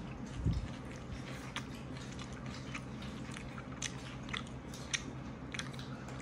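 Close-up eating of chicken fried rice during a food challenge, with a soft crunching bite near the start followed by quiet, irregular chewing and faint clicks against a low background hum.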